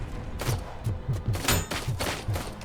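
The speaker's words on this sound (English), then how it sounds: "Why are you throwing grenades willy-nilly through?" Grenade and gas-can explosions in the RoboCop: Rogue City video game, a rapid string of heavy booms and thumps one after another, loud and close, with no talk over them.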